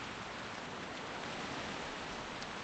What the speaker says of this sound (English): It's pretty cool with the rain.